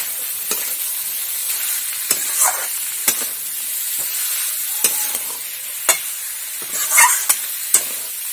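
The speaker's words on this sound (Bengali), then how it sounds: "দিয়ে এবার আমি এটা সুন্দর করে নাড়িয়ে নেব।" A spiced chicken and vegetable mixture with garam masala is stirred in a hot pan, a steady close sizzle broken by sharp scraping strokes at irregular intervals, with no voices.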